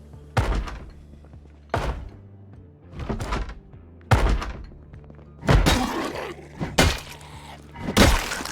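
Heavy repeated head-banging thuds in the video game Project Zomboid, around seven loud booming knocks at irregular intervals of roughly a second, each with a short echoing tail, and no talking.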